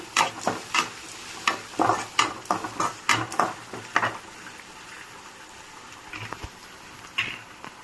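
Curry leaves, green chilies and onions fry in a pan for vermicelli upma, with a run of rhythmic stirring strokes over a crackling sizzle that thins out toward the end.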